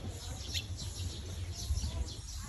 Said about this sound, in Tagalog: Maabong yung mga ibon dito.